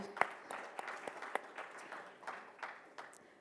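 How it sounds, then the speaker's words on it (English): Faint, sparse applause for NPCI, Bob Financial and IRCTC at a credit card launch event, with distinct individual claps in a loose rhythm from a small group. "A huge round of applause for NPCI, Bob Financial, and IRCTC"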